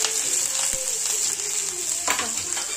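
Garlic and onion fry in a pan for aloo paratha, a loud, close, steady sizzle broken by a few brief stirring scrapes.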